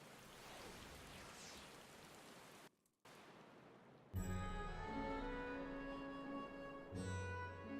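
Steady broadband rain hiss from the Final Fantasy XIV game world fills the first few seconds, breaks off briefly, then gives way to layered tonal game music and ambience for the rest.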